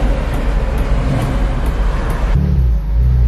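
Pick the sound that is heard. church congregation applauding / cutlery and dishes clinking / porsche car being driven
porsche car being driven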